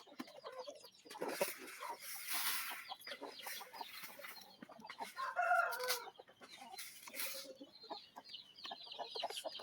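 Farm chickens at feeding time cluck and call in overlapping bursts, with a rooster-like crow rising in the middle, moderately near but fairly quiet overall, while faint human voices sound now and then.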